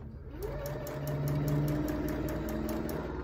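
An Eversewn sewing machine running at its middle speed, a fast even needle clatter with a humming motor that starts up and holds steady, close by and without speech.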